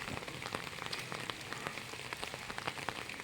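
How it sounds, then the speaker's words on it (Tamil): Steady rain falls on surfaces in Adirampattinam, a dense, even patter of drops with sharper individual taps scattered throughout, close and continuous, with no voices. "இறைவன் கொடுத்த அருட்கொடை இந்த மழை"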